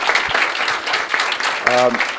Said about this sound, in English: So can we please give them another big round of applause?